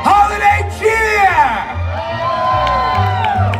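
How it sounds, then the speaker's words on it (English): A theme park holiday show audience at Universal Studios Florida screams, whoops and shouts together in loud bursts of crowd cheering. "I need everyone to scream and shout like you are elves on a sugar rush"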